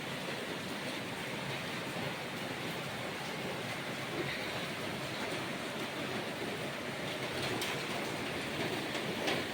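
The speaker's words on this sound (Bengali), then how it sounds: "দেখুন কি পরিমাণ বৃষ্টি," Heavy rain pours down in a dense, continuous roar, steady and loud throughout with no voices.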